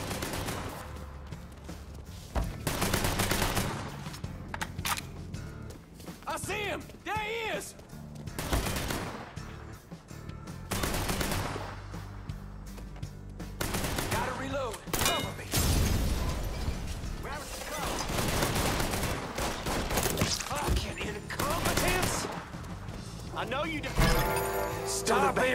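Bursts of gunfire in the video game Mafia III crackle through the scene, loud and repeated, mixed with mechanical clatter while people talk excitedly over it.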